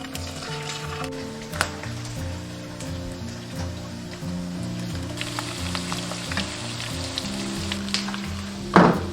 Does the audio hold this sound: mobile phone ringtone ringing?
no